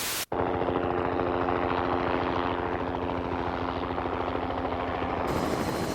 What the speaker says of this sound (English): Helicopter rotors work just like airplane wings